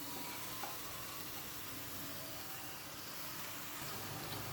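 Chicken sizzles and fries in a kadhai as a steady, faint hiss with soft crackle, continuous and even, with no talking over it.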